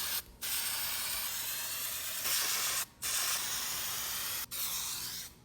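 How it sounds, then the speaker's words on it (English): Spray can or gun laying a heavy wet coat of paint on a wheel during restoration: three long, loud, steady hissing bursts separated by brief pauses, close up. "doing a little heavier on the wet coat helps to fill in any of the lighter overspray areas from the first two coats"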